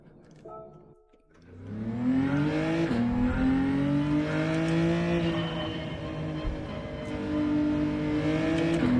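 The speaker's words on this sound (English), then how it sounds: "The engine noise should be pretty solid for you." A race car engine in a racing video game revs up from a brief idle into a sustained high-pitched drone with smooth gear-change shifts in pitch, loud and continuous with no talk.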